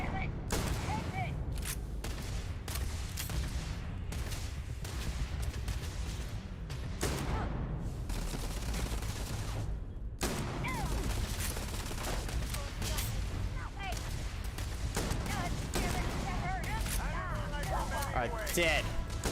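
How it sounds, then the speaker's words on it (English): Shotgun blasts fired in the space game Starfield, with sharp broadband bangs repeating irregularly through dense game action and heavy background noise, while a voice talks over the gunfire. "We're going in with a shotgun for the first time."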